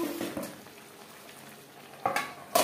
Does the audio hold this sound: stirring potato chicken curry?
yes